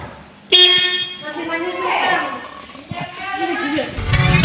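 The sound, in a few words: car horn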